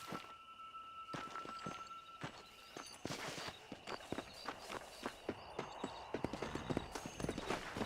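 Horse hooves clip-clop steadily while riding in Red Dead Redemption, close and fairly loud, with a quickening rhythm toward the end over a faint steady background tone.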